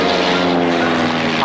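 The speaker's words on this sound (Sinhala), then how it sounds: "අරෝර නැවේ ප්ලේන් එක" A propeller plane launched from the ship Aurora in a Sinhala-dubbed Tintin cartoon drones loudly and steadily with a buzzing engine hum for its brief duration.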